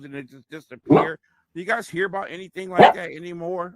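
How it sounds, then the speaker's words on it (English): A dog barks upstairs, two or so sharp barks breaking through over a person's ongoing speech. "What is that barking?"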